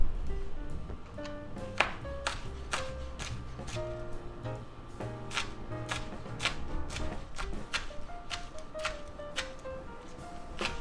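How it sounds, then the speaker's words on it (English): Green onion chopped with a knife on a cutting board, a quick run of crisp, fairly even taps close by, under a steady tonal hum in the background. "cut up some green onion."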